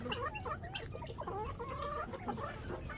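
Hybrid chickens cluck and murmur close by in a backyard flock, a quiet run of short warbling calls with faint background noise.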